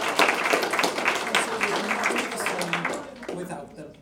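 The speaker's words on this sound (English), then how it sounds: "I would like to give them a round of applause for the work" At a students' council and elections hustings, a room of students breaks into applause, a dense burst of clapping mixed with some voices that thins out and fades toward the end.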